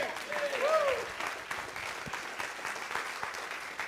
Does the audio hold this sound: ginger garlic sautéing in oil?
no